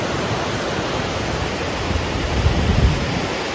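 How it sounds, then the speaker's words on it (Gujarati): Water rushes strongly through a dam like a river in a steady, dense roar that swells slightly toward the end; no voices. "અહીંયા જો તમને નદી કેમ પણ પાણી આવે"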